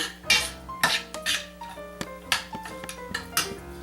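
A metal spoon clinks and scrapes against a cooking pot while parsley is stirred through wine-braised riblets, giving a run of bright, close taps and rattles at an uneven rhythm with no talking.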